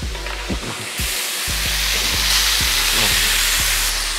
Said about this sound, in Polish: Ładnie nam to skwierczy.